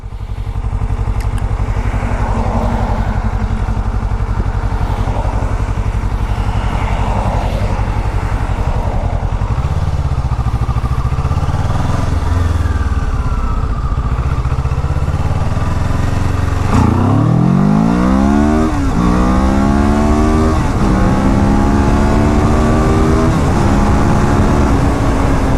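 A 2015 Kawasaki Ninja 650R engine on a test ride, loud and steady, first droning at a constant speed, then revving up through several rising gear-by-gear pulls in the second half.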